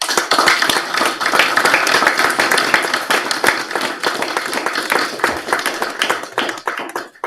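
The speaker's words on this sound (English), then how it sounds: "I think a round of applause is" Clapping from a temple gathering during an initiation ceremony, a steady spread of hand claps from a modest crowd lasting throughout, fairly close and dense, with no one talking over it.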